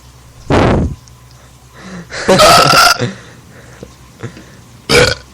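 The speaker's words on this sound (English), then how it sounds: "why was my burp manlier than yours was?" Several loud, throaty burps in short bursts, separated by pauses and some breathy vocal sounds nearby.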